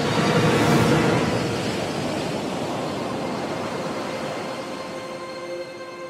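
Ocean waves surge in a steady, broad roar of surf, loudest in the first second and then holding as a continuous wash with a faint tonal hum underneath, with no talking.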